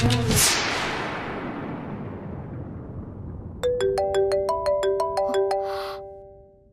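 A mobile phone ringtone plays a bright repeating electronic melody of rising notes, loud and close, starting a few seconds in over a noisy TV-drama scene and ending abruptly.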